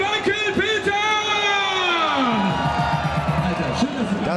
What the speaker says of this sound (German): Und jetzt gibt es einen richtigen Applaus für den Wackel Peter!